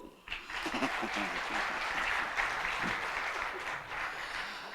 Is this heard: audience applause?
yes